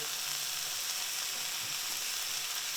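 Ham frying in a pan, a steady close sizzle with faint crackles and a few light scrapes, no talking.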